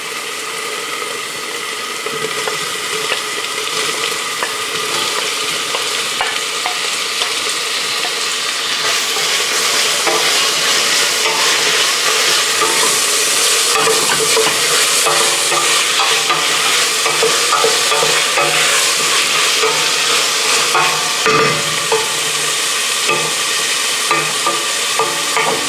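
Tomatoes sizzle steadily in a frying pan while a utensil stirs and scrapes with frequent clicks, a loud, continuous close-up frying sound with no talk.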